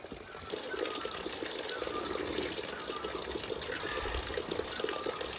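Fresh, cold water flowing at a stepwell (bawdi) in Rohru, Himachal Pradesh, a steady close rush and gurgle that fills the whole clip without any speech.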